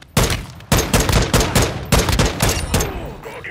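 Heavy gunfire in Call of Duty: Modern Warfare II, a loud close fusillade of rapid overlapping shots and bursts that sounds for several seconds before easing off.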